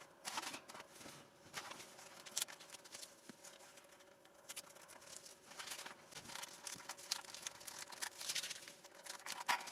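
Masking tape peeled slowly off the wing of an H King 750mm Corsair foam model aircraft, giving close, quiet crackling and tearing rustles in uneven bursts with no talking.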